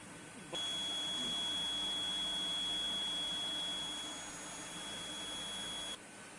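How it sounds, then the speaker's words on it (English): Continuous steady electronic beep from an EnerTech battery charger-discharger system signalling a fault trip, holding one high tone for about five seconds at constant loudness before cutting off, with a low background hum beneath. "When your system is tripped due to parameter, it's show fault log over the screen and system beep sound come."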